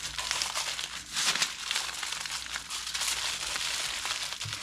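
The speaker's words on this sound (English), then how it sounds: "And then I roll them in foil to protect them in the freezer." Aluminum foil crinkling steadily as a breakfast burrito is rolled and wrapped in it, close and continuous rustling for several seconds.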